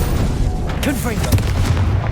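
Blasts from the Confringo explosive spell in the Hogwarts Legacy game, loud booming bursts close by, mixed with a voice calling out spell names.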